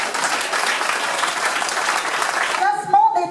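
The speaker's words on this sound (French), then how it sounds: "on peut l'applaudir encore parce que c'est dur pour les filles" Spectators at a cycling prize ceremony in Grémévillers applaud the women riders, a steady burst of crowd clapping that gives way near the end to a voice speaking over a public address system.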